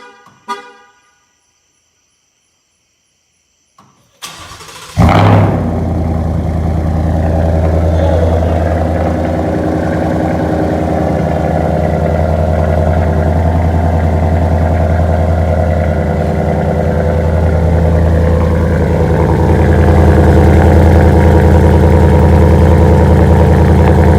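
A short horn toot, a pause, then a Ford F-150 5.0L V8 pickup with a loud aftermarket exhaust fires up and settles into a loud, deep, rumbling idle that holds steady to the end.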